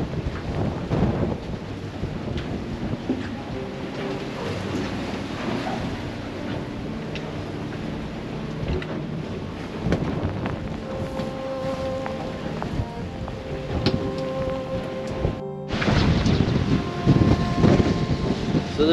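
Storm wind and rain lash a boat anchored out in extreme weather, a steady loud rush of wind noise and spray with creaks and knocks throughout and a brief dropout near the end.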